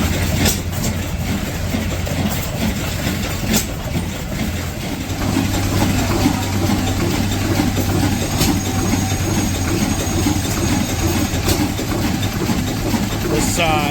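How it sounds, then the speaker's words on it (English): Many stationary engines run at once inside an engine building, one driving a big belt for woodworking equipment, making a loud, steady mechanical drone with rhythmic clattering and occasional sharp clicks. "This engine building has a lot of engines running in it"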